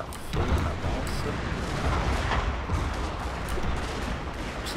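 Cannon and musket gunfire in a battle in the Shogun 2 strategy video game, a dense, continuous roar of overlapping booms and shots with rumbling low end, loud and unbroken throughout.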